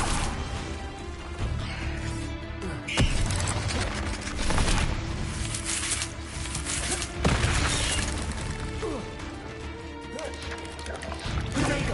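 Confringo blasting spell explosions in the Hogwarts Legacy video game, sharp crashing blasts around three and seven seconds over a dense, loud battle din with a character shouting.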